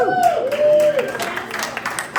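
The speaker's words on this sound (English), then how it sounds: "make a round of applause for Bracebridge" A comedy-club audience at a stand-up set for Army, Navy and Air Force units claps for Bracebridge, a scattered patter of hands rising as a voice trails off.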